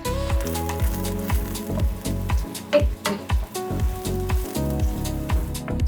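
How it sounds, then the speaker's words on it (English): Onions and celery sizzle loudly in melted butter in a saucepan, a steady close crackle with rapid popping spatter running throughout, no voices. "Now that our butter is almost completely melted, I'm gonna add in our onions"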